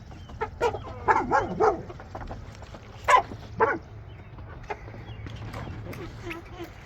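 A young farm guard puppy lets out several sharp, scattered barks near the microphone, with chickens clucking faintly around it in a barnyard.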